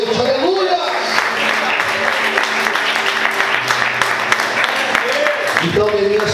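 A church congregation applauds at length, dense sustained clapping filling the room, with a voice carrying over the start and end.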